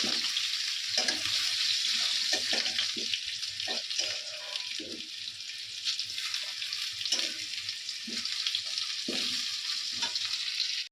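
Steady, loud sizzling of potatoes frying in oil, with intermittent stirring knocks throughout.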